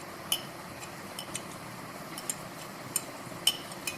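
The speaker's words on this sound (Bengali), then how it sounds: "এবার ভালো করে পুরো মিশ্রণটাকে মিশিয়ে নেব" A utensil taps and scrapes against a wok while boiled loitta (Bombay duck) fish is stirred into a mixture, giving sparse light clinks at irregular intervals over a quiet background.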